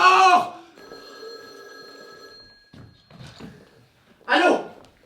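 A telephone bell rings in short bursts at the start and again near the end, with a voice heard briefly in between.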